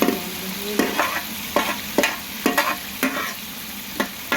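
Green chillies go into a pot of frying chicken pulao: a steady sizzle runs throughout, with about eight sharp scraping stirs of a spoon against the pot at a brisk, uneven rhythm, close and alone with no voices.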